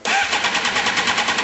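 Suzuki GSX-R motorcycle with an aftermarket Yost exhaust starting up, catching abruptly and settling into a loud, buzzy idle with a quick pulsing rhythm.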